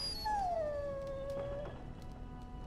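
A dog in Dragon Age Origins gives a single drawn-out whine that falls in pitch and fades, with faint game ambience behind it.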